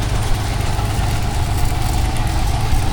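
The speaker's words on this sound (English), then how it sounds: "And now we have a crane engine" A miniature steam crane engine runs at a parade at Parham Park, giving a steady, close, continuous low chugging rumble with no breaks.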